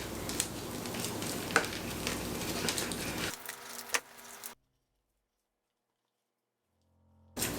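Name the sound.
moss being pulled off Phalaenopsis orchid roots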